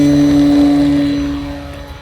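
A Carbon Cub S2 light airplane on a windy day with flaps partly set, its propeller engine droning loud and steady with strong tonal hum, fading somewhat near the end.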